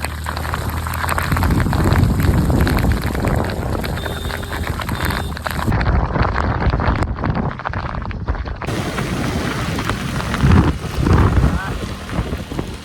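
Heavy rain pours down outdoors, a dense, continuous roar mixed with wind buffeting the microphone, while voices talk faintly underneath.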